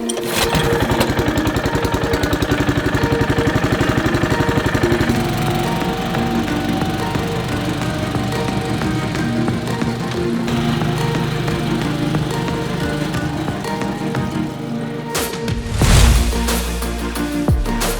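A lawn mower runs steadily and loudly up close while mowing a lawn for a double cut, its engine droning with a rapid, even pulse, shifting slightly in tone partway through.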